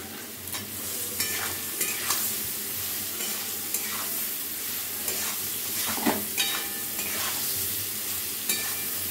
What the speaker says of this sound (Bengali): সোয়াবিন দিয়ে হালকা করে এবার ভেজে দেবো, একদম লাল লাল যাতে হয় সোয়াবিনগুলো সেইভাবে ভেজে নেবো